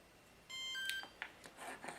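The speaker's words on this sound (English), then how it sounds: "You heard this beep." A Tamiya RC speed control and receiver in a 1/14 Globe Liner truck build give short, faint electronic beeps, a brief tone followed by a couple of quick chirps in a quiet room.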